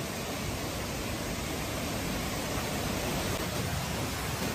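A waterfall roars close by, a dense and unbroken rushing wash of water that stays loud and even from start to finish, with no voices over it.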